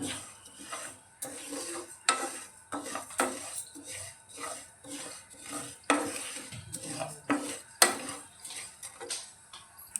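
A spoon stirs spices roasting in a pan for mango pickle, giving repeated light metallic scrapes and clinks at an uneven rhythm, fairly quiet and close, with a faint sizzle beneath.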